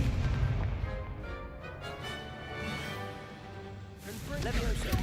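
The Expulso explosion spell in Hogwarts Legacy goes off in booming, blast-like bursts at the start and again near the end, with game music droning underneath in between.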